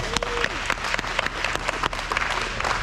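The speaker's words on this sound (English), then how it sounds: "Let's give them a round of applause." Audience applause at an air show media day opening ceremony, steady sustained clapping from a crowd, fairly close and dense, with no talk over it.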